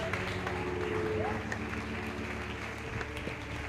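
A church congregation claps and acclaims during a Sunday evening worship meeting, a dense, continuous wash of applause mixed with voices and a low musical drone underneath, steady throughout.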